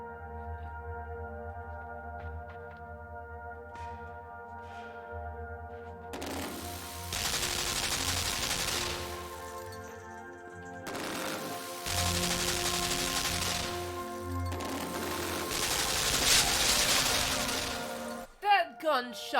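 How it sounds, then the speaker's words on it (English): Gunfire from a gun in the video game Limbo: sustained bursts of loud shots over an ambient drone and music, ending in a few sharp impacts. "That gun shot me in half."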